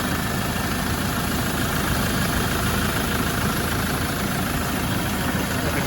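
A warm 57-plate Land Rover Defender 90 with a 2.4 TDCi diesel engine idles close to the microphone, producing a loud, dense, unbroken rumble that stays level throughout.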